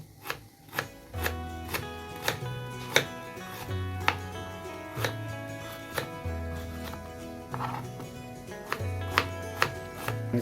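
A knife chops vegetables lengthwise on a board while a chicken handi is prepared, with sharp rhythmic thuds about once a second, close and clear, over a low steady hum.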